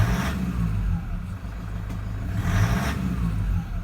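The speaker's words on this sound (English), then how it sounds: "We're just going to give it a gentle rev and have a listen to it and check for smoke." A warmed-up car engine with a rough idle runs steadily up close. It gets a couple of brief, gentle revs over the low, even rumble, and no one speaks.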